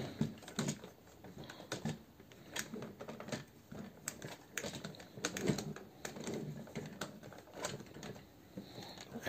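Plastic parts of a DX9 Gewalt transformer toy being folded, giving a series of light, close clicks and ticks in irregular quick succession.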